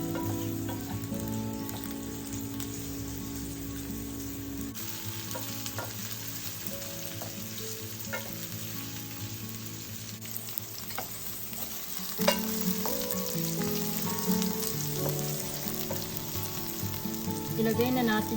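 Chopped onions and taro sautéing in a pan for a Filipino coconut-milk taro dish, a steady close sizzle of frying with a spoon scraping and stirring through it, growing a bit louder toward the end.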